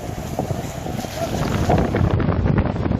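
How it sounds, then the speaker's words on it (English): Howling wind and rough seas roar continuously around a semi-submersible oil rig in a North Sea storm, with low rumbling surges of water growing louder toward the end. "facing gigantic waves and devastating winds during an offshore storm in the harsh North Sea"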